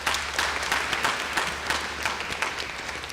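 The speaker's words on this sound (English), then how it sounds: "let's give these guys a good round of applause for their good work" Audience at a gubernatorial campaign debate applauds the participants, a dense, even roar of clapping filling the space from start to finish without a break.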